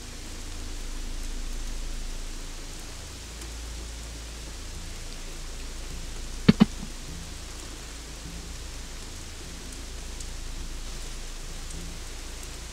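Soft, steady rain in the video game Gothic 3 hisses throughout with a low rumbling undertone, interrupted once by two quick sharp clicks midway.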